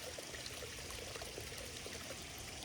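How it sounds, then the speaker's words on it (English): Water trickles and splashes steadily through a ram pump, backwashing from a line running uphill to a spring house, a continuous close wash of flow with no voices. "the water you see coming through here is probably backwashing"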